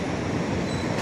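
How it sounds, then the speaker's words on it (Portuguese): A train rolls past beside a bus terminal in São Caetano, a steady, loud rumble of rail noise that fills the whole moment without pause. "E o trem passando ao lado."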